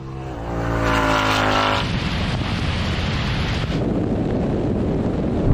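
An electric BMW 3.0 CSL drag-races a modified Mustang: a loud, sustained engine roar with rising tone, then steady roaring road and wind noise with no voices.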